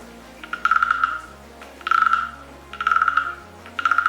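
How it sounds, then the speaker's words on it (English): A wooden frog percussion instrument rasped with a stick produces four bursts of ratcheting, croak-like clicks in a slow, regular rhythm, close and clear over faint background music. "This wooden frog, it makes the sound of a real frog."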